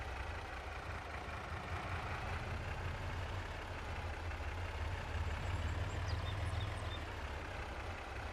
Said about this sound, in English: If I can back up the truck.